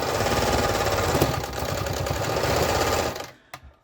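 A Čaika 132M sewing machine runs at a steady fast, rattling pace close up, then stops sharply, leaving a couple of faint clicks.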